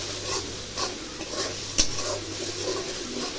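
A spoon stirs food frying in a pan, making repeated scraping strokes over a steady soft sizzle, with one sharp clink of metal midway; nearby and moderately loud, with no talk.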